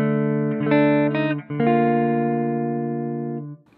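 A clean Telecaster guitar played through a Princeton Reverb amp with the reverb switched off picks a few notes and then a held chord that sounds dry and flat, cutting off abruptly.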